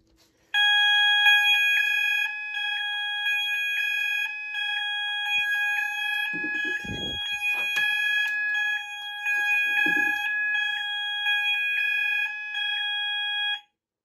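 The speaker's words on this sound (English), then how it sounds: "I'm gonna do alert just to try and sync the sounders" Apollo XP95 fire alarm sounders on alert blare a loud, continuous electronic tone for over ten seconds, pulsing slightly as units fall in and out of sync, with a few low thumps beneath.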